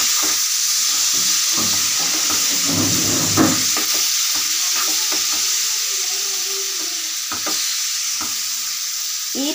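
A bilimbi tamarind pickle mixture being stirred in a pan in a traditional Kerala kitchen, with a steady sizzling hiss throughout and intermittent scraping and clinking of the spoon against the pan, close and continuous.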